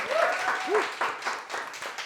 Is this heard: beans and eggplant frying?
no